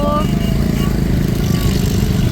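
Motorbikes arrive at a crowded roadside Eid Milad un Nabi food handout, their engines a steady loud rumble blended with street noise and voices talking over it throughout.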